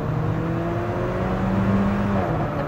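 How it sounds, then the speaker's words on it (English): An Alfa Romeo 4C pulls hard in third gear, its engine note rising steadily in a sustained, close drone heard from inside the car with no talk. "Third gear is where this car really sings."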